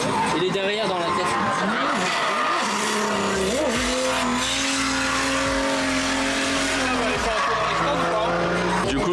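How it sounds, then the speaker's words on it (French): Drift cars at the Drift Cup 2026 event rev hard and squeal their tires. Engine notes rise and fall in loud, continuous sweeps over a constant roar, with the squealing layered on top throughout. "Je vais essayer de vous filmer une bagnole qui envoie fort"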